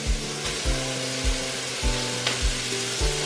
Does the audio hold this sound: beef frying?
yes